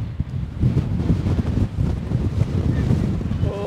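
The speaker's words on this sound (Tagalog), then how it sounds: "Grabe lakas ang hangin." Strong wind buffets the microphone outdoors at the Tesselaar Tulip Festival in 2025, a steady roaring rumble that fills the whole clip with a few brief gusting surges.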